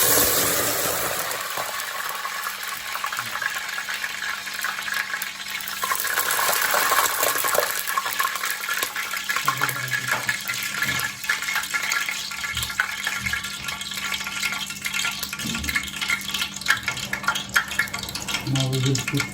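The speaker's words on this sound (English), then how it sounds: "Now we are going to put some sprinkles of garlic water" Garlic water sprinkled into hot mustard oil for nalli nihari, bursting into a loud, crackling sizzle that settles into a steady, close frying hiss with scattered pops throughout.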